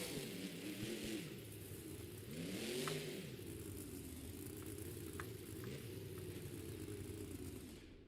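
A monster truck engine at a Monster Jam stadium show in Anaheim revs in several rising and falling surges, fairly distant and faint under a broad crowd and arena wash.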